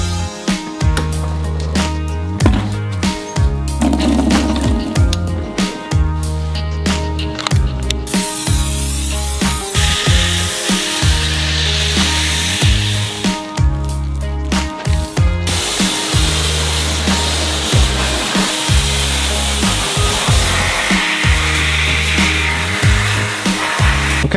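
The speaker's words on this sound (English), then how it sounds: "any audio that you hear from the blow dryer, that's audio captured from a shotgun mic mounted on top of the camera" A Blo Air-GT car dryer blows air over a freshly washed, wet car, a continuous close whooshing roar that swells and shifts as it moves, alongside a steady rhythmic thumping beat.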